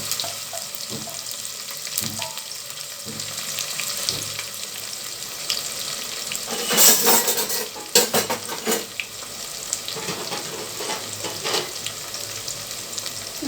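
Sliced onions and green chillies frying in a pan for fish biryani, stirred with a spoon. A steady close sizzle runs throughout, with scattered scrapes and clinks of the utensil against the pan that grow busier toward the middle.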